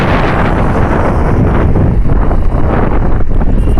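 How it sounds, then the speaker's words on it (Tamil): Strong headwind buffeting the microphone of a motorbike rider on a rainy night ride, a loud, continuous roaring rumble that fills the clip without a break. "ஆப்போசிட்டில் காற்று அதிகமாக அடிக்குது"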